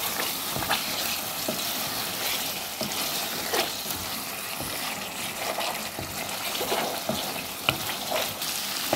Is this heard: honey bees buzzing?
no